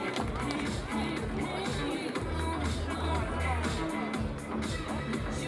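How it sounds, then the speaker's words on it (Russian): Audience at a no-rules fighting event clapping for the fighters, a dense, steady wash of applause and crowd noise that fills the whole stretch with scattered sharper claps and murmur. "Друзья, давайте поддержим аплодисментами бойцов."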